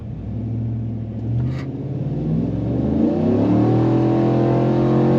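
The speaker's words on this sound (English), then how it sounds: "I wonder what are the odds I can get a good clean pull in second gear and two-wheel drive if I just feather the throttle a little bit" A 2020 RST pickup truck in two-wheel drive accelerates hard in second gear, its engine drone rising steadily in pitch and loudness, with a brief break around a gear shift, close and alone.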